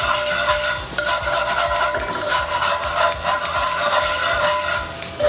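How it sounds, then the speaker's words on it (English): A utensil scrapes and rubs steadily across the bottom of a pan as wine deglazes the browned bits left from pan-roasted deboned chicken, a continuous gritty rasp with a light sizzle underneath and no talking. "We scrape the bottom, and we call this process deglazing."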